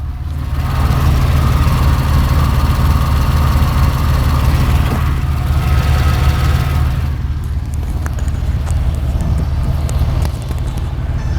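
A running car engine with bore scoring on cylinder 6 drones loudly and steadily at a low idle-like pitch, close by, with a faint higher mechanical clatter toward the end and no talking.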